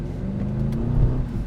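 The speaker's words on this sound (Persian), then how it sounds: "بعد این صدا اگزوزی هم که داره خیلی خفنه" Engine of a Mercedes GLS Brabus 800 SUV revving with a deep, steady exhaust rumble that swells slightly near the end, close and continuous with no talking.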